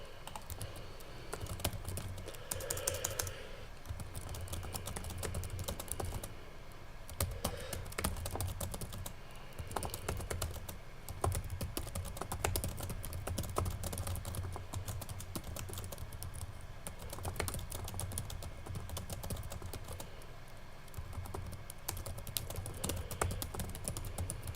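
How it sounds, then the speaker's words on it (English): Continuous typing on a computer keyboard, quiet and steady clicking with irregular keystroke rhythm over low room hum. "I was trying to finish what I was typing"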